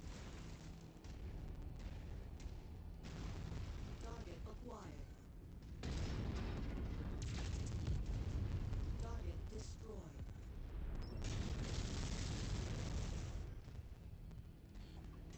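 Missile salvos fire and explode in MechWarrior 5: Mercenaries, a modded mech combat game, in a sustained roar of rumbling launches and booming blasts that swells and fades over about fifteen seconds, with someone talking throughout.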